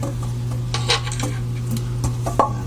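A freshly washed wok, a kawali, is handled and hung up, making metallic clanks and light scraping knocks over a steady background hum, close by and in a loose irregular rhythm.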